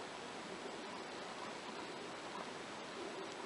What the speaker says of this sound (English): Yeah, this is the sound of the refrigerator.